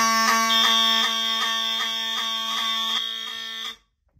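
A Wheelock fire alarm system sounds during a test: a loud, harsh electronic horn pulsing rapidly and evenly over a steady high tone, then cutting off abruptly into silence.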